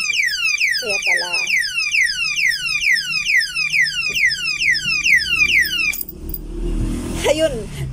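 A Chinese anti-theft alarm lock rated at 110 dB blares a loud, rapid repeating siren of falling sweeps that abruptly stops, followed by handling noise and a brief low rumble.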